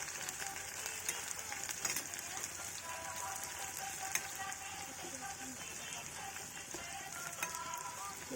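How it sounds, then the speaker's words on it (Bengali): Onions fry in hot oil in a pan with a steady, rain-like hiss and occasional scraping as they are stirred, close and continuous for several seconds without talk. "পেঁয়াজগুলোকে ব্রাউন করে ভেজে নিলাম"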